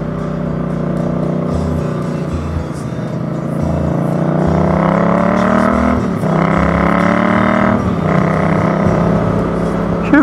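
A motorcycle ridden on a slimy dirt track: the engine drones steadily up close, rising and falling in pitch as the throttle opens and eases.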